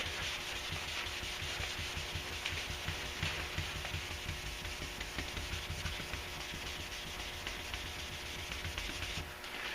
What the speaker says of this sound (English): so that's the other reason I'm sanding the whole thing